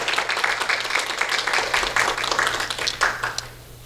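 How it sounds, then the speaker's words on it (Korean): Church congregation clapping to welcome visiting guests, including a missionary, a lively, dense round of applause from the room that fades slightly toward the end, with a low hum underneath. "우리 박수로 환영할까요?"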